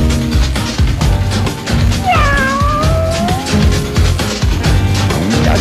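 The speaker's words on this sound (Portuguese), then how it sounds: "Um gatinho aí." A cat meows once, a clear drawn-out cry with a falling pitch. It rises over the noisy, crackly background of a distant FM radio broadcast.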